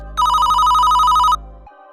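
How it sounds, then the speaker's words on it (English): A shrill electronic phone ringtone trills in a steady warbling pattern for about a second, loud and close, then cuts off abruptly and leaves a low hum. "The shrill sound of his phone's ringtone pierced through the silence"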